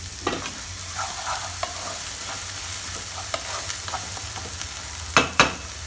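Ginger garlic paste fries in a pan under a soft, continuous sizzle, punctuated by scattered scrapes of stirring and two sharper utensil knocks near the end.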